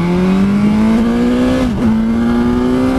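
A 2020 BMW S1000 XR motorcycle pulls hard from second gear, its engine note climbing steadily, dipping briefly at a quick upshift, then rising again, loud and close with no voices.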